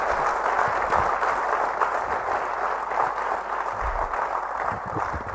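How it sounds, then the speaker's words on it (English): Steady, dense applause fills a hall at the IIT Kharagpur valedictory gathering, the audience clapping continuously at an even level for several seconds without speech. "So let us give a proper clap now."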